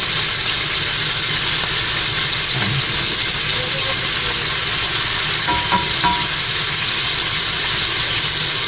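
Frying in a pan, a loud steady sizzle and hiss that carries on throughout, with a few faint clinks and stirring sounds beneath.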